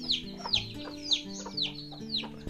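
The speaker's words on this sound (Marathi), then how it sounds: "इथे कोंबडी." Hens clucking inside a village coop: repeated short, close, rising clucks roughly every half second over a low background hum, with no talk.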